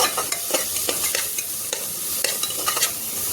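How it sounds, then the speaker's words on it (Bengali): Ground cumin, turmeric, Kashmiri chilli powder and salt sizzle in hot oil for ghugni while a spoon scrapes and stirs the pan in repeated strokes, the frying close and steady, with no voices. "দিয়ে মশলা এখন কিছুক্ষণ কষাবো।"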